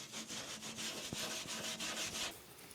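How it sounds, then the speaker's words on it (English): Rhythmic scrubbing of steel wool against rusty metal, repeated rasping strokes with a faint scraping tick, close and quiet. "I'm just using some steel wool to get the rust off."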